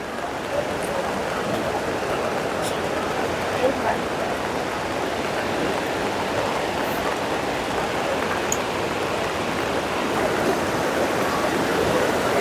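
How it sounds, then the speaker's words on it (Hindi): Heavy monsoon rain falling near Johna Falls outside Ranchi, a loud, dense and steady hiss that runs unbroken throughout, with the waterfall's roar blended in. "बारिश काफ़ी हो रही है यहाँ पर"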